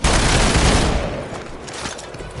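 Venom fires guns in Marvel's Midnight Suns: a dense, loud burst of rapid gunfire fills the first second, then fades into a lower rumbling tail of scattered shots and echo.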